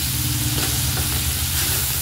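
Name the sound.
stirring sauces in a hot pan for fried rice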